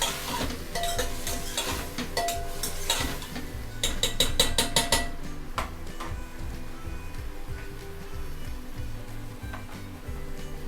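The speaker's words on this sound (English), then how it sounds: "I will add all the vegetables together and mix it well for 1 minute" Vegetables for sambhar being stirred in a pot, with rapid clattering, scraping bursts and a light sizzle underneath, close and fairly busy, fading to a quieter sizzle in the second half.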